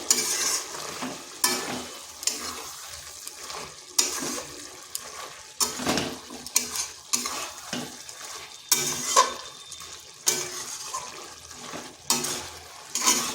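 Chicken with spices sizzles in a pan during kosha-style stir-frying, with a low steady fry under regular, distinct scraping and clattering strokes of a spatula, close and recurring every second or two.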